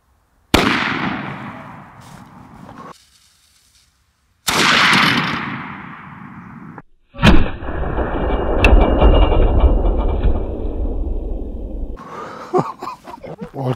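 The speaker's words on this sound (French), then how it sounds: "Oh, le coup de fusil que c'était." A 300-bar blowgun fires with sharp, loud gunshot-like bangs, each bursting in suddenly and ringing out as it decays, followed by a longer blast with a sustained hissing tail.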